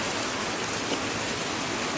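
Rain falls on a groundnut farm field, a dense, even hiss that stays close and loud throughout without any voices.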